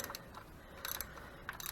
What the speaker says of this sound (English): all I have is a ratcheting wrench to get in there